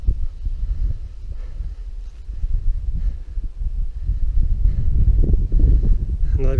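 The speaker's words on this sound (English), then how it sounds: "Tad windy." Strong wind buffets the microphone on a mountain climb in Torridon, a heavy, low rumbling gusting that rises and falls throughout, loud and close.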